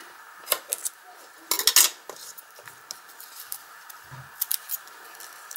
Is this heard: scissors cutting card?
yes